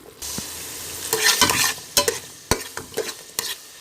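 Spices frying and being stirred in a pot for peas pulao, with soft sizzling and a few sharp scrapes and knocks of a spoon against the pot, close and moderately loud, no talking.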